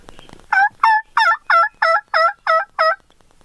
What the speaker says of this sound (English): There's a gobbler right there.